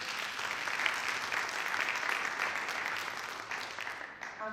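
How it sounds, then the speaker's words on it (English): Audience applause fills the room steadily and loudly for an Andre, introduced at a college event about high-speed rail, dense clapping without voices that tapers slightly at the end. "please clap for him"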